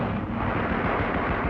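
Gunfire from the 1954 Godzilla film, as a dense, continuous roar of shots and blasts with rapid low thuds throbbing underneath, loud and unbroken throughout.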